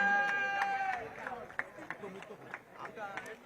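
A crowd at the Namma Run marathon prize ceremony in Tamil Nadu claps for a winner, a scattered, fairly faint patter of individual handclaps after a short musical tone at the start.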